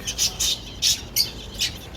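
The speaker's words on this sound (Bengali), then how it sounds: "এটা হচ্ছে গোল্ডিয়ান ফিঞ্চ গ্রিন ব্যাক" A green-backed Gouldian finch gives five short, bright squawking calls in an irregular rhythm, close and clear over a quiet background.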